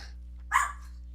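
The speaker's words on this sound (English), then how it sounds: "Oh, sorry about the dog." A single short dog bark, somewhat distant and faint against a low steady hum.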